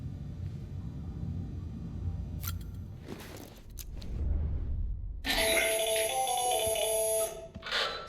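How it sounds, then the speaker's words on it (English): A phone ringtone in the video game Death Stranding: a bright electronic chime that starts after a few seconds of low rumbling ambience and sustains loudly for about two seconds before cutting off. "They really gotta change that ringtone."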